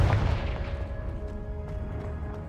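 A Confringo fire spell goes off in Hogwarts Legacy with a heavy low blast at the outset, then a rumbling tail. Faint sharp cracks are scattered through the tail over a steady game hum.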